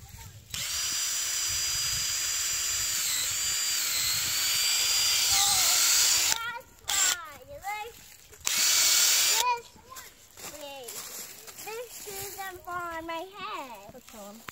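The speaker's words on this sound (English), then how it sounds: "So I'm going to drill a hole here so you can see how it works." A power drill whines steadily for several seconds boring a hole into a maple tree trunk, pauses, then revs briefly again, close and loud, followed by someone talking.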